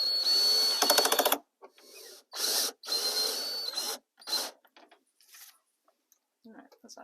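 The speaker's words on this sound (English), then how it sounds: "I'm just going to mount it to one of the layout cross beams here with some 1-inch drywall screws" A powered driver sinks 1-inch drywall screws into a wooden cross beam of a model railroad layout, several short, loud whirring bursts stopping and starting with sharp gaps of silence and a few faint clicks between.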